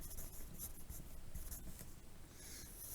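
Pen writing notes on paper during a sixth-grade math lesson, a close, steady scratching patter lasting a few seconds with no talk over it.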